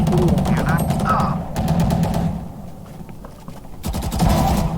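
Gunfire from Valorant: loud, rapid bursts of shots crack in quick succession, broken by a short lull before another volley at the end, with a voice faintly under the action.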